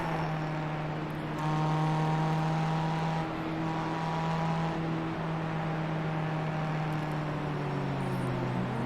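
Pontiac Solstice race car with a 175-horsepower Ecotec four-cylinder engine in iRacing, giving a steady droning engine tone with slight pitch shifts, held at a constant loud level throughout.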